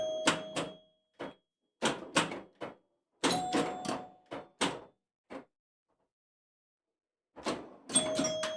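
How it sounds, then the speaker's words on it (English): Bright bell chimes from a Fire Queen pinball machine ring in quick irregular bursts, clusters of short dings separated by brief silent gaps, then a final flurry of tones. "I always like to listen to the chimes as they go by"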